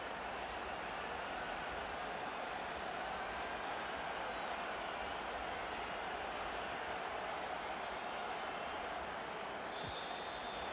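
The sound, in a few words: stadium crowd noise in Madden 25 video game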